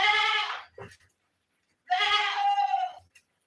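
A goat bleats twice, close and loud, with two drawn-out wavering calls separated by a short pause.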